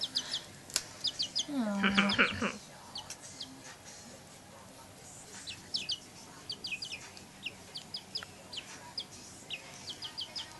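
Baby chicks cheeping and clucking nearby in a run of short high chirps, with a louder squawk early on, while people talk and laugh over them.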